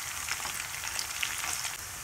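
Cumin, dried chilli, bay leaf and cinnamon fry in hot oil with a dense, even crackling sizzle, close and steady with no talking.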